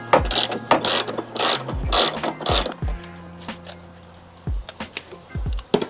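A ratchet undoing 12mm bolts on the clutch master cylinder of an FRS/BRZ/86, rapid clicking pawl bursts close up and repeated several times with short pauses between strokes.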